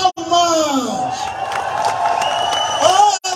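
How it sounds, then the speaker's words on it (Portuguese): A crowd at a political rally in Huambo claps and cheers as its party president is announced. Shouts and voices rise over the steady applause, with a loud amplified voice calling out above the noise. "Palmas!"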